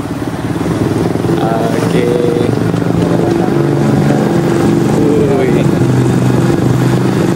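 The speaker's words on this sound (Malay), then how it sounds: "Motosikal jalan kat Pekan Tampin." An Aveta Ranger motorcycle rides through Tampin town, its engine a steady, continuous drone up close with road and traffic noise around it; someone speaks briefly over it.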